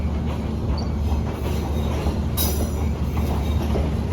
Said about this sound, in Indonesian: ini betul sepertinya kereta api Argo Sindoro, dan uniknya ini menjadi kereta api pertama full rangkaian yang masuk stasiun, bukan stasiun, terowongan Sasak Saat